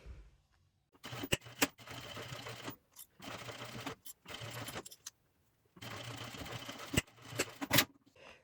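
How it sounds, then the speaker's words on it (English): Sewing machine top stitching across a wristlet phone wallet, running in four long bursts of steady mechanical whirring with sharp clicks, separated by short pauses, close and fairly quiet. "we will take it to the machine, and we will top stitch right here and just go across."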